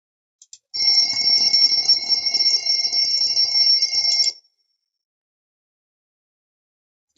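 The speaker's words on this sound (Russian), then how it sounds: "Правильно, это будильник." An alarm clock rings with a steady, loud electronic trill for about three and a half seconds, then stops abruptly, followed by silence and a brief click at the end.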